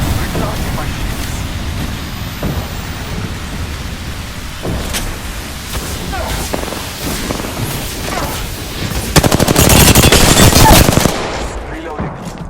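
Rapid automatic gunfire in the Apex Legends video game, loud sustained bursts of shots with a heavier, denser volley near the end over ongoing game noise.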